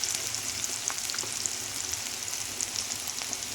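Ginger garlic paste frying in a pan with egg and capsicum: a steady, close hiss of hot oil with small crackles and light stirring clicks throughout, no voices.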